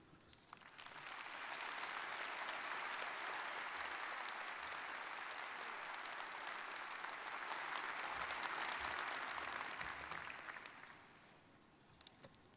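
Sustained applause from a large audience at a university commencement ceremony, a dense, steady clapping that swells and runs for about ten seconds before tapering off.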